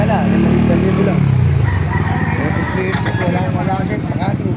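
Roosters and hens at a poultry market in Baliuag, Bulacan, crowing and clucking loudly and close through a dense, busy crowd, with people talking throughout.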